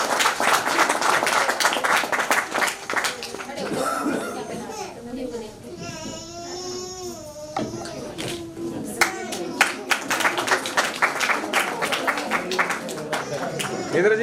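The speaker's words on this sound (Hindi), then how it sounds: "एक जोरदार तालियां सर।" Loud applause and clapping from a gathered crowd at a retirement ceremony, with talk and children's voices mixed in; the clapping swells in dense bursts, eases briefly midway, then returns strongly.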